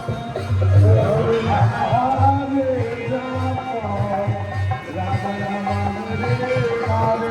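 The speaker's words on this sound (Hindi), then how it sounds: "मंदिर में देखो चढ़ावे खातिर कितना ज़्यादा भीड़ लगल बा" Dense crowd murmur at a busy Hindu temple fair, many voices overlapping in a steady loud babble with some nearby talk standing out, continuous throughout.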